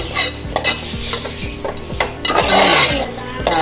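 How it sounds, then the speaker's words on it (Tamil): A utensil stirs chicken fry in a cooking pan with repeated scraping strokes about every half second, clinking against the metal over a soft sizzle, close and clear with no talking. "இதோட கிண்டி வைக்குவோம்."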